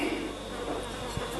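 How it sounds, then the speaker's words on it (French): Flies hover over kitchen ingredients such as milk powder and biscuit flour, a faint continuous buzzing drone with a soft knock near the end and no speech. "Oh, les mouches, c'est un truc de dingue"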